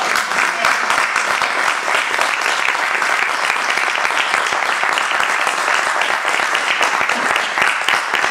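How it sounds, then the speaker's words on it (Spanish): Dense, loud, sustained applause from an audience closing a workshop on memory of the Second Spanish Republic, continuous clapping throughout with faint voices beneath. "¡Un aplauso!"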